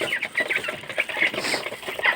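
Hungry ducks with no water or feed left raise a dense, continuous chorus of quacking close by, many birds calling over one another without pause.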